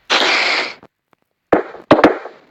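TNT explodes in Minecraft Pocket Edition: one long roaring blast, then after a short gap a few more loud bursts in quick succession, close and with no talk.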